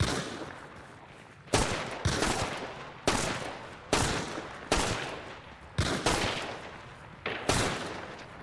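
Seven evenly spaced, loud gunshots from a video game showdown, each a sharp blast with a decaying tail, firing at roughly one-second intervals with no talking between them.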